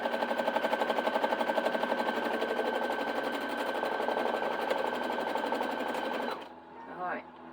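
Home sewing machine stitching a quarter-inch seam while quilt piecing, a steady rapid mechanical chatter for about six seconds that stops abruptly, followed by brief quiet handling sounds.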